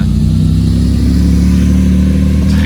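A Porsche GT2 RS sports car engine runs nearby with a loud, steady low rumble on a Monaco street. The engine note holds even throughout with a slight shift near the end.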